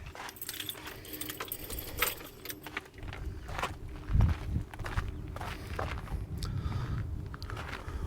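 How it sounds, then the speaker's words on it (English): Keys jangle in the ignition of a 2002 VW Autosleeper Clubman Gatcombe campervan, with continuous close metallic clinking and rattling alongside shuffling movement and a few dull knocks. "Put the keys back in the ignition."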